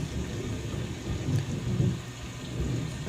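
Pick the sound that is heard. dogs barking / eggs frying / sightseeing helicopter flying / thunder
thunder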